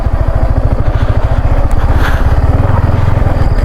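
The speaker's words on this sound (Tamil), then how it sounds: "வண்டி ஆஃப் ஆகுது." A motorcycle engine, running rough as it stalls and is restarted, chugs close and loud in steady, uneven pulses for the whole stretch, with no voices.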